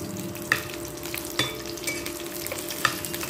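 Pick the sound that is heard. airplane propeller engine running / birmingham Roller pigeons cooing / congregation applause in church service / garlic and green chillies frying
garlic and green chillies frying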